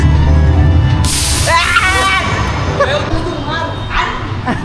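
A dog barks and yips in short bursts, near and fairly loud, while people talk over it.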